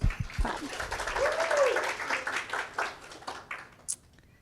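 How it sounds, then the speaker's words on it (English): Applause from the audience at a university communication honor society induction ceremony, steady clapping through most of the moment with a voice speaking over it near the start. "Y'all can clap."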